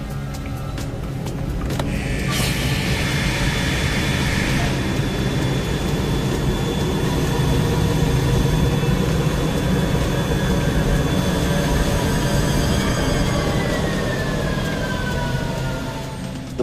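Jet engine running steadily at reduced power during a water ingestion test, a loud continuous roar with a high whine, alone throughout with no voices.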